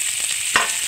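Onion, eggplant, vegetable stalks and chili fry together in a pan, giving a steady close sizzle broken by one short stirring knock near the middle; no talking.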